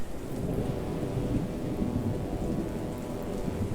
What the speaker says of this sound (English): I could see the thunder rattling from afar.